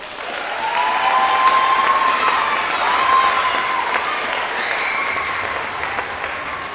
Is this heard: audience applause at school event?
yes